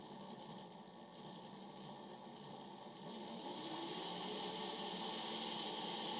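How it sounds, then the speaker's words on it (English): A Tri-ang Dock Authority Shunter model locomotive's small electric motor whirs noisily in a continuous high buzzing hum, growing slightly louder partway through, with no voices. "This model is really noisy, but it's actually got a pretty good motor with nice low speed control."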